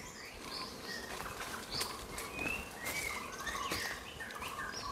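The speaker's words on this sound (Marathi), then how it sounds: "पक्ष्यांचे आवाज आहे का फक्त?" Several birds chirp and call intermittently in a forest, with short tweets scattered over a steady, quiet background.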